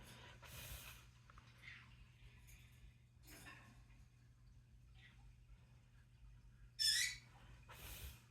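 A pet bird makes a few faint, scattered squawks and chirps in a quiet room, with one louder, sharper call near the end.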